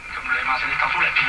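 A Philco 49-501 Boomerang tube radio plays at high volume, a loud, narrow, slightly tinny broadcast voice filling the room for a brief stretch.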